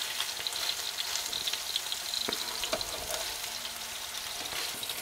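Hamburger patties fry in a pan inside a campervan, giving a steady, dense sizzle and crackle throughout with a few sharper pops and spatters, close and continuous with no talking.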